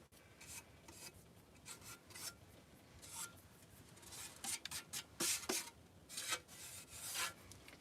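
An old metal number is rubbed and rasped to distress it, producing a continuous scratchy scraping in quick uneven strokes, close and fairly quiet with no talking.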